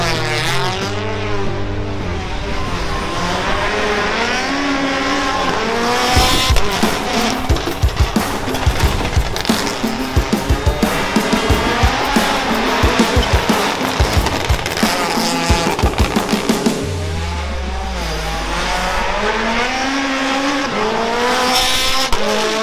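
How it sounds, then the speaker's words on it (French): Rally cars drifting in a gas station parking lot, engines revving and rising and falling in pitch with bursts of tire squeal and skidding, loud and close, repeated runs back and forth. "les mecs ils finissent la journée sur un parking de station essence à faire du drift"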